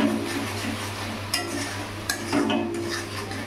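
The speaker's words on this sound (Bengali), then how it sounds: "মশলাটা আমি ভালো করে কষিয়ে নেব।" Spice paste of cumin, ginger, onion and garlic with salt and turmeric stirred and sautéed in a wok for mutton-style patol chingri, a steady low sizzle broken by a few sharp clinks and scrapes of the spoon against the pan.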